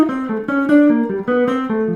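Piano plays a descending run of triads, each approached by a half step from below, in a steady stream of overlapping chords, clear and alone.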